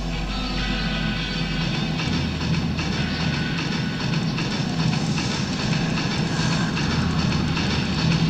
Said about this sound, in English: Just hide when the train comes.